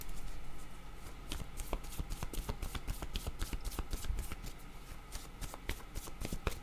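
A deck of word cards is shuffled up close, with a run of quick, crisp riffling flicks and slaps that repeat steadily throughout and no voices.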